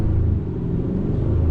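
A 2021 Hyundai Sonata N-Line pulls hard in Sport Plus mode with traction control off, its engine a loud, steady low rumble that holds close and continuous without a break.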